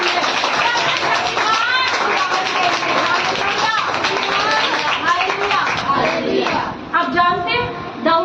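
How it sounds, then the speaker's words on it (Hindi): Loud applause from a church congregation during a Hindi sermon, a dense steady wash of clapping lasting several seconds with voices and cheers mixed in. "एक बार जोर से तालियां"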